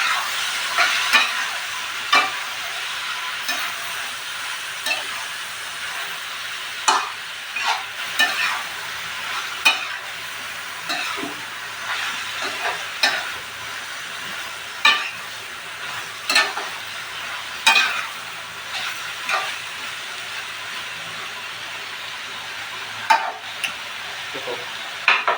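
Shrimp fry with turmeric for shrimp bhuna, a steady close sizzle broken by repeated sharp scrapes and knocks of a spoon stirring the pan.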